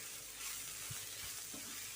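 Spice powders drop into hot tempering oil for a spinach stir-fry, giving a soft, continuous sizzle with faint stirring, quiet and steady throughout.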